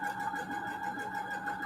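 A quiet secondhand sewing machine running in a steady, even hum with a soft repetitive mechanical rhythm, close and low in level throughout.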